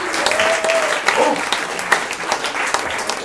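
Comedy-club audience at an off-comedy festival clapping for a comedian, a dense steady patter of many hands at fairly close range, with a brief whistle or whoop mixed in.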